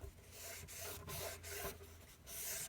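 A cloth rubs and wipes along the charging handle of a KWA gas blowback airsoft rifle in a steady, close, scratchy rhythm, with brief pauses between strokes and no talking.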